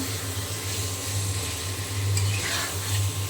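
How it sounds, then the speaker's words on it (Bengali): Potatoes and meat sautéed in a pan, a steady frying sizzle with stirring and occasional scraping, close by, over a low electrical hum, no voices. "এখন খুব ভালো করে আবারও আমি কষিয়ে নিব"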